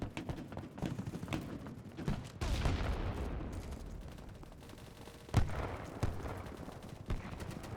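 Dense, continuous gunfire from a video game battle, with rapid bursts and heavy booms; a big blast around the middle washes over everything, then more sharp shots and explosions follow.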